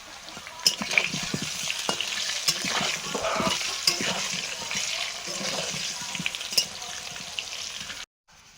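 Potatoes for a country-chicken curry fry and sizzle in a pan with salt and turmeric, a steady broadband hiss broken by scraping stirs and small clatters, close and fairly loud throughout before cutting off abruptly near the end.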